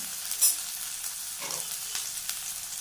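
Long-sliced small onions dropped into a hot pan of oil already holding dried red chillies, for beetroot stir-fry, give a steady close hiss of frying, with a brief louder clatter early on and no voices.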